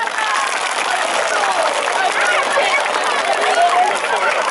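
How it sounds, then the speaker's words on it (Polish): A school group at a bank's 150th anniversary challenge bursts into dense, steady applause, many hands clapping at once, loud and close, holding evenly throughout. "dziesięć, klaski"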